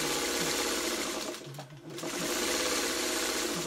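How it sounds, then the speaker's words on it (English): Sewing machine running steadily at close range as it stitches the bias edges of quilt block pieces together, dipping briefly mid-seam before resuming its fast even hum. "You're sewing the biases together, right?"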